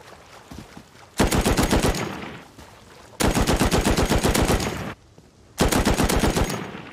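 An LMG light machine gun in the video game Rust fires three long, loud, close bursts of rapid automatic shots, each lasting one to two seconds, separated by short pauses.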